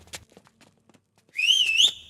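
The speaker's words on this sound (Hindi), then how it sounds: "तुझे सीटी बजाने आती है क्या?" A person whistles one clear, high, warbling note that bends down and back up for about half a second, following a few faint scattered knocks and rustles.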